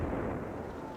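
Artillery fire in battle from a 1977 war film, heard as a dense, continuous low rumble of distant booming guns that fills the moment without any distinct single blasts.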